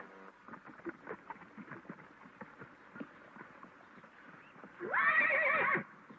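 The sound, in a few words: horse neighing and hooves by a corral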